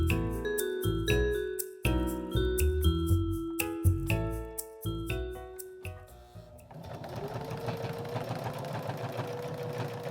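Sewing machine stitching a fuzzy seat belt cover in short, slow bursts with pauses and light taps, giving way to a steadier, softer hum near the end.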